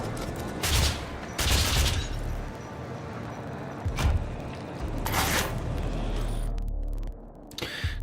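Micro missiles weapon mod firing in DOOM: sharp explosive bursts in quick clusters, several loud blasts separated by brief lulls, with a low rumbling tail between shots and no voices.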